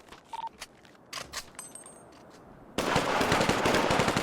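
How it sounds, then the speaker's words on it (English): Gunfire rings out in a Grand Theft Auto roleplay shootout: scattered single shots at first, then a dense, continuous burst of rapid fire that fills the second half. "They were just shooting him through the chain link."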